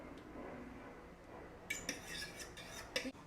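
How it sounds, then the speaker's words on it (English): A fork whisks eggs and milk in a bowl, giving faint scraping at first, then several quick, light metallic clinks and taps near the end. "And then we'll have you whip it with a fork."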